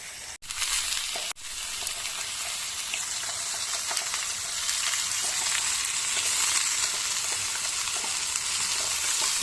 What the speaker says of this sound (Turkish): Soğanlarımızı hafif şöyle yumuşamasını sağlayalım.